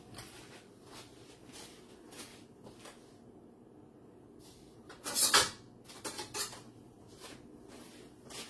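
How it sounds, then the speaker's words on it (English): Kitchen drawer and utensils clattering as a spatula is grabbed during cake decorating, a cluster of loud knocks and rattles midway after quieter handling taps. "Let me grab another spatula."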